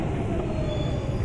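A train rumbles along at a London Overground station, a steady close roar with a faint high wheel squeal over it and no talking.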